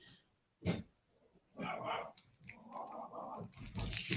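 A dog barks indoors in a few sharp bursts, close and fairly loud, separated by short gaps, with some household clatter and rustling between them.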